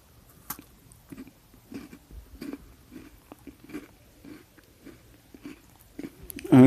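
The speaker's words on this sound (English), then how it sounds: "So they crunch very nicely, got a nice taste to them." Cadbury Dairy Milk shortcake biscuits with a chocolate layer are crunched and chewed close to the mic in a steady rhythm of soft bites, with no talking.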